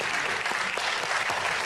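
Theatre audience applauding an actor's entrance at a closed film screening, a dense, even wash of many hands clapping at once, sustained and fairly distant, with no speech over it.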